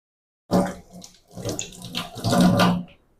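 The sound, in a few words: rinsing banana flower under running tap water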